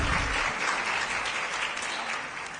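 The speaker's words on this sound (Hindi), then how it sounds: "एक बार ताली का और अच्छे से स्वागत किए प्रदेश अध्यक्ष जी का" An audience at a political gathering applauds in welcome of the state party president, a thick continuous burst of clapping filling the short clip.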